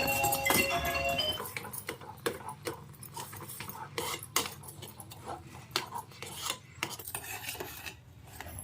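A spoon scrapes and stirs wheat flour into a sweet mixture in a metal pot for kaakaralu, making repeated soft rasping strokes and occasional clinks, close and fairly quiet.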